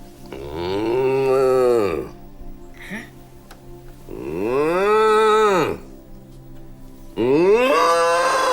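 A cow gives three long, loud, deep moos, each rising and then falling, with short quiet gaps between them and the last one cut off.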